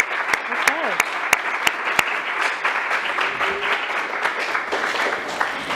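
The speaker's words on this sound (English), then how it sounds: "let's give a round of applause" Audience applauding at a research and internship panel, a steady wash of clapping lasting several seconds with a few sharper claps and faint talk underneath.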